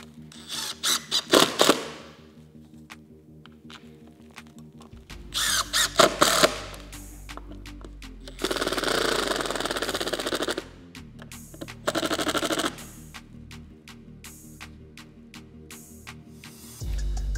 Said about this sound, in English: Go ahead and put our screws in and fasten it down.